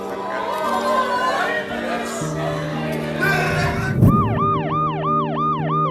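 An ambulance siren wails in a repeating rising-and-falling pattern through a Paris street protest, cutting in loudly over a dense bed of crowd chatter and street noise.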